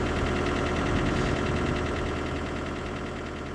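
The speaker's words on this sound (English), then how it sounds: "The machine will first start in a low pressure mode. Basically, it only starts the engine." A Geoprobe 7822DT's engine runs steadily just after a cold start, giving a continuous, rhythmic mechanical drone with a pulsing low rumble and no talking.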